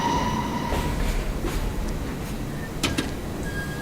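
A New York subway train rolls along the track in Train Simulator World of Subways, a steady close rumble and rail noise with brief high squeals and clanks; no one speaks.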